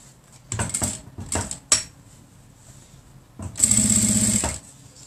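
Sewing machine stitching a fabric bread bag, running in two short bursts and then one longer steady run, with small clicks and taps between the runs.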